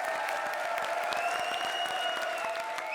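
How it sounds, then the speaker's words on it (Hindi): A studio audience at a comedy show claps steadily to welcome a comedian on stage, dense continuous applause with a bright musical tone running beneath it. "जोरदार तालियों से इनका स्वागत कीजिए।"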